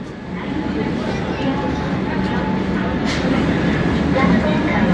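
The New Delhi–Howrah Rajdhani Express pulls into a station platform with a broad, steady rail rumble that swells slightly toward the end, with voices in the background.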